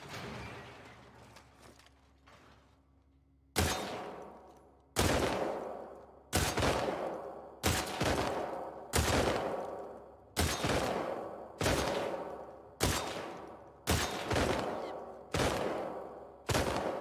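Gunfire from The Last of Us Part II empties a full magazine: about eleven loud single shots, spaced roughly a second apart, each with a sharp crack and a long echoing decay, after a brief quiet lead-in.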